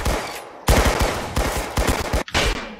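Rapid automatic gunfire from the Roblox shooter Arsenal in a 1v1 match, loud close bursts of repeated shots with brief pauses between volleys, no talking.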